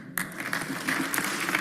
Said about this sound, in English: They're clapping because they know what that would do for us.